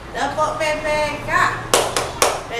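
Two sharp claps from a class of children doing the Tepuk PPK clap chant, landing near the end after a stretch of voices chanting.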